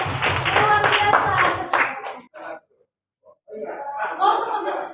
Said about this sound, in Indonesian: beri tepuk tangan Bapak Ibu